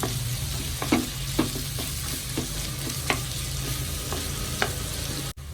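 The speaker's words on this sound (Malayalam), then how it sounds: "സവാള നന്നായിട്ടൊന്ന് വഴറ്റിയെടുക്കണം" Sliced onions sautéing in oil for prawn perattu, a steady close sizzle broken by regular spatula scrapes and taps as they are stirred, with no voices.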